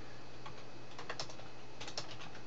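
Keys tapped on a computer keyboard while setting a filter in query software, a few light scattered clicks then a brief burst of taps ending in a firmer press of the enter key, close and quiet over a steady low hum.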